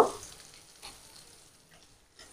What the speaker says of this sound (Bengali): এই সয়াবিনগুলো এবার ভেজে নেব। সামান্য একটু লবণ দেব, একটু হলুদ দেব।